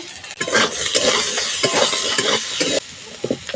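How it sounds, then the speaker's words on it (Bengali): Potatoes and eggplant fry in a pan with a loud, close sizzle, as a utensil stirs and scrapes in uneven strokes, with a brief clink of metal on the pan. "ঢাকা দিয়ে আলু আর বেগুনটা ভালো করে ভেজে নেব"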